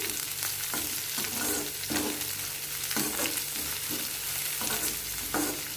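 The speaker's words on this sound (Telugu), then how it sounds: "ఇప్పుడు దీంట్లో కొంచెం స్ప్రింగ్ ఆనియన్స్ వేసుకున్నాము. వేసి బాగా మిక్స్ చేసేద్దాం." A spatula scrapes and stirs fried onions and spring onions in a hot pan, with regular rhythmic strokes over a continuous close sizzle.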